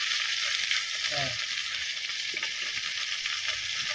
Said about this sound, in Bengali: একটু ভাজা হয়ে গেছে, এবার একটু উল্টাই দেবো।